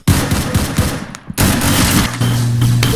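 Rapid bursts of gunfire in the Roblox shooter game Arsenal, loud and close, with a short pause midway before the firing resumes alongside a sustained tone.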